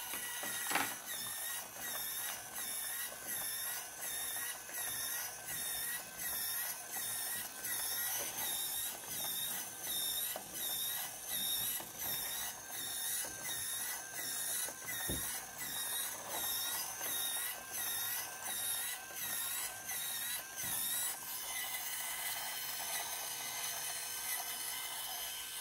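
A 3D-printed WIKI robot runs its mechanism, a steady repeating mechanical ratcheting and whirring with rhythmic clicks cycling roughly every half second, loud and close, with no voices.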